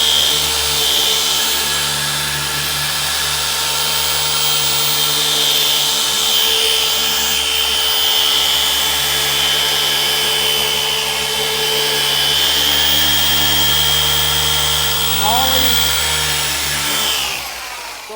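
Maxshine M15Pro dual action polisher with a 15 mm throw, working a contoured car panel at speed 6 and bogging down, a loud close steady motor drone that drops away at the very end.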